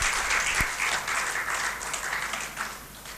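An audience at a Hindi poetry gathering applauds to welcome a poet, a dense, steady wash of clapping lasting a few seconds and tapering slightly at the end.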